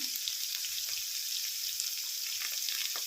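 Turmeric and curry leaves frying in hot oil for an ivy gourd and onion masala curry, giving a steady, close crackling sizzle with faint scattered pops and no voices.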